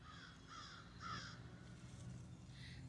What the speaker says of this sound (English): Hear that crow over there?